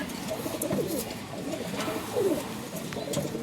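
Pigeons of a quality breeding line cooing nearby, soft throaty coos repeating a few times over a low steady background hum.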